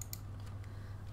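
Typing on a computer keyboard while writing code: a few quick soft key clicks over a low steady hum, faint and close.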